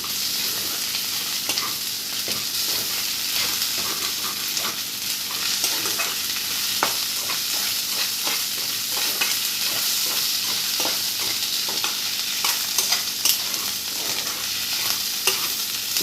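Onions frying in a pan with ginger garlic paste for a prawn curry, a steady close sizzle under repeated scraping strokes of a spoon stirring throughout.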